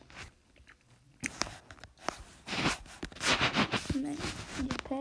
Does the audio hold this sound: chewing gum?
yes